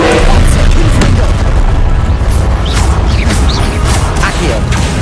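Spell blasts and explosions from Hogwarts Legacy boom loudly and continuously, heavy low rumbles mixed with bursts and crashes. A voice calls out over the din.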